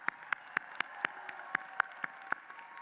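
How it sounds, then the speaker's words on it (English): Clapping at the UIC Honors College spring commencement in 2023 honors the graduates: evenly spaced, crisp single claps about four per second, fairly faint and distant, with little crowd noise around them. "Please join me again in a round of applause for these graduates."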